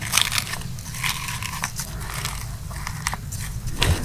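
Chili, salt and mustard oil being mixed and squeezed by hand in a kitchen, giving close, wet crunching and squelching with soft scraping, steady and moderately loud.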